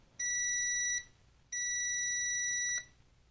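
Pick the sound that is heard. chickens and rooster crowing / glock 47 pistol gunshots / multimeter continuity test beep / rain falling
multimeter continuity test beep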